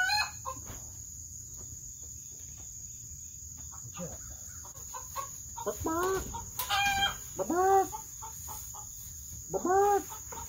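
Several birds call outdoors, including rooster-like crowing and clucking bursts that repeat every second or two over a constant high insect-like buzz, fairly close and clear, with no talking.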